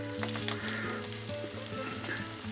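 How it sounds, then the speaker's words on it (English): Oil sizzles and crackles steadily in a pan as a vegan burger patty fries, with scattered pops and a low hum underneath, close and continuous. "you can hear it sizzling away"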